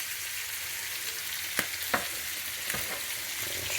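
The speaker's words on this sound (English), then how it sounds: "Stir that up real good." Zucchini and pasta frying in a pan sizzle steadily and close up, seasoned with lemon pepper, while a utensil scrapes and stirs in a few brief knocks.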